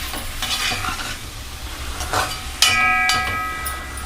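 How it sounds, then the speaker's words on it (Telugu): Grated carrot frying in ghee over a medium flame for carrot halwa, a steady soft sizzle with intermittent scraping and stirring of the pan, punctuated by a few sharper metallic clinks. "ఇలా వేయించుకోండి."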